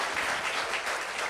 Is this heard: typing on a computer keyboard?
no